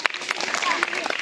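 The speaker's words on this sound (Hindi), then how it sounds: "ताली बजाएंगे इसके लिए।" Brief round of clapping from a group at a child-protection awareness game session, fairly close and uneven, with voices mixed in under the claps.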